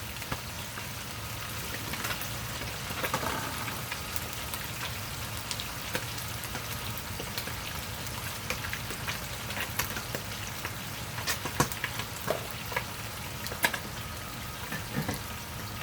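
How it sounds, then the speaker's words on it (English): Galunggong (round scad) frying in a pan, a steady dense sizzle with scattered sharp pops and crackles, close and continuous throughout. "of course we're gonna continue frying our galunggong."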